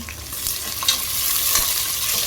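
Whole spices such as bay leaf, cinnamon, cloves, cardamom and fennel, with onion and green chilli, sizzle in hot oil in a pressure cooker, a close, steady frying crackle with a few scraping stirs.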